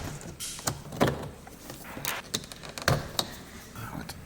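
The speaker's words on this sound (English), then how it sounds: "I'm gonna take this door panel off so that I can get to." Sharp plastic clicks and pops as trim clips release while a BMW E34 door panel is removed, with scraping and rattling between them, close by and irregular.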